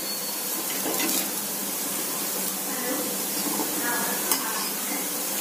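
A flipped onion adai fries in oil on a griddle, producing a loud, steady close-up sizzle with a faint bubbling, watery quality and a brief clink near the end.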